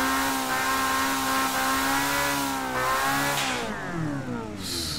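A Group C race car engine screams at high revs in Gran Turismo 7, holding a loud steady pitch before sweeping upward and then dropping away near the end, close and unaccompanied.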